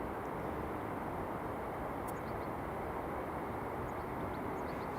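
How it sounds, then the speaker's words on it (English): An EasyJet airliner taxiing at Edinburgh Airport, a steady broadband engine roar held at an even level throughout, fairly distant and unbroken, with no other distinct events standing out. "We've got another EasyJet just taxiing out there."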